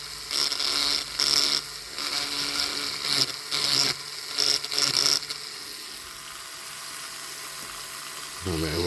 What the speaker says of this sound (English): this Black & Decker Wizard is very good. It's got a lot of torque.